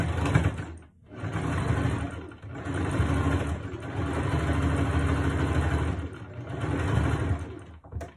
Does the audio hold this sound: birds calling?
no